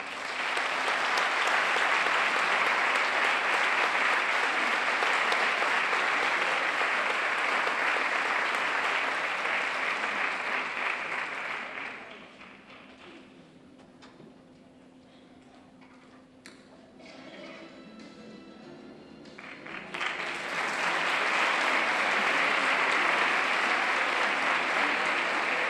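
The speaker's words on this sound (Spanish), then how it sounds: "Un fuerte aplauso para ellos." Audience at a closing gala gives sustained loud applause, which fades to a quiet pause around the middle and then surges back just as strongly.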